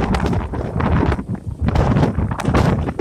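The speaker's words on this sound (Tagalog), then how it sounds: "Malayo na nga yung bagyo sa amin pero ganun pa rin kalakas ang hangin." Strong typhoon gusts buffet the microphone, a loud roaring rush that surges and briefly eases before blasting again.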